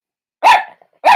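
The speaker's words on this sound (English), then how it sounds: "Everybody's going to get nervous because you're barking." A dog gives two sharp, close barks about half a second apart, loud and isolated with silence around them.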